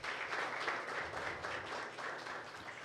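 A round of applause at a consumer defense commission session in Angra dos Reis, greeting an official joining the panel; sustained, evenly dense clapping from a seated audience with no voices over it.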